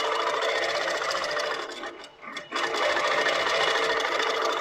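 A Pro-Stitcher Lite computerized longarm quilting machine stitching on a quilt frame, a loud, even, rapid mechanical whir close by that briefly dips and pauses near the middle before resuming steadily.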